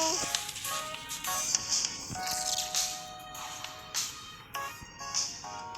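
A phone rings amid clattering, rustling background noise, the ringtone sounding in repeated bursts without being picked up.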